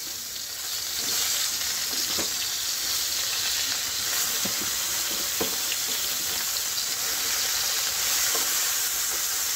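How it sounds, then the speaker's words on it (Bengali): Small cut eggplant pieces fry in the hot oil left over from frying hilsa fish, giving a dense, continuous sizzle and crackle with faint stirring scrapes, loud and close, with no talking. "ওই মাছ ভাজার তেলেই বেগুনের টুকরোগুলো দিয়ে দেব।"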